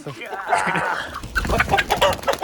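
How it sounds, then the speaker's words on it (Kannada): A native country hen clucks in short, close bursts, with rustling and a person's voice mixed in at the start. "ಇಲ್ಲಿ ಕೋಳಿ ಇಲ್ಲಿದೆ ಅದನ್ನು ಹೇಗಾದರೂ ಮಾಡಿ ಹಿಡಿಬೇಕು"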